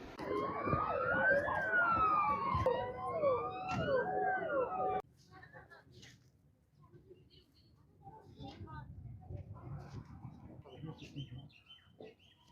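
A fire brigade ambulance siren wails, rising and falling loudly for several seconds during a mock drill in Sangrur district, then cuts off, leaving quieter background with faint bird chirps and scattered noise.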